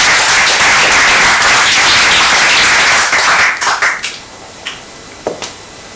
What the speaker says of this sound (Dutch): Mag een applaus voor Amber Hernandez.